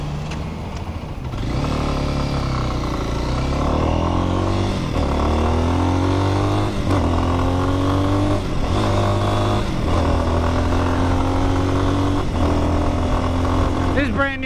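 A brand-new Lifan single-cylinder 198 cc fuel-injected motorcycle engine with a 5-speed transmission runs close and loud. Its rough idle rises into repeated blips of revving at a steady pace.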